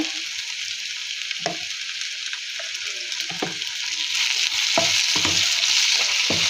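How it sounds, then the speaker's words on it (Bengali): Dried loitta fish fried with onion and ginger-garlic paste, a steady loud sizzle with intermittent spatula scrapes and stirring knocks, growing slightly louder toward the end, with no talking. "আদা রসুনটাও অনেকটা সময় ধরে আমি ভেজে নিব"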